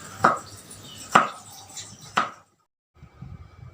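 Three separate knife chops land on a cutting board with gaps of about a second between them, close and sharp, while carrots, capsicum, beans and ginger are cut. A short silence follows, then faint low kitchen noise.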